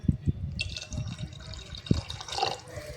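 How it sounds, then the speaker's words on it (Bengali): Water splashes and trickles into a pot of Champaharan mutton curry, with a few soft knocks and gurgles as it fills, close and fairly quiet. "জল দিয়ে দিচ্ছি যে যেমন গ্রেভিটা রাখবে"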